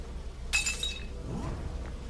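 A thrown glass bottle shattering in the video game We Happy Few, one sharp bright crash followed by a faint tinkle of falling shards, heard over a quiet background hum.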